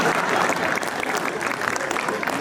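An audience at a Hindi kavi sammelan poetry event, the C DOT Shabdotsav 2023, breaks into dense, sustained clapping. The applause is loud and steady for a few seconds, filling the hall.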